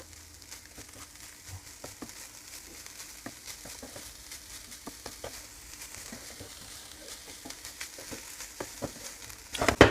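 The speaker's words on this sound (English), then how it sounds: "Now give it a nice good mix." Samosa filling with freshly added spring onion and coriander is stirred in a pan. Soft, continuous scraping and faint sizzling crackle run throughout, with a louder clatter at the very end.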